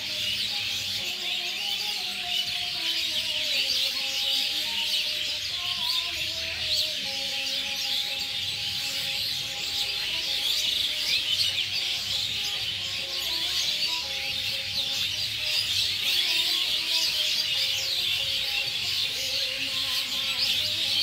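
A large flock of small birds gathered at a seasonal roosting spot chirps and twitters continuously, a dense, steady chorus of overlapping calls that fills the whole stretch with no pauses.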